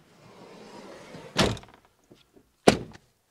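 Doors on a Ford Nugget camper van shut with two sharp, close thumps about a second apart. A few small clicks follow, over faint rustling.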